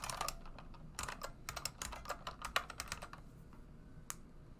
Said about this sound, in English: So in our update loop, we can simply type fly towards player